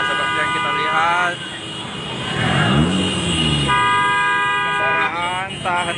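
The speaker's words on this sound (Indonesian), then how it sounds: "kendaraan tak henti-hentinya membunyikan klakson Tribuners di jalan ini" Car horns honk repeatedly in street traffic in Makassar during a student protest, as vehicles are diverted onto a side road. Sustained horn blasts sound at the start and again near the end, over a steady rumble of traffic.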